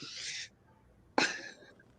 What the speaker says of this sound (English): No, that's the cockatoo.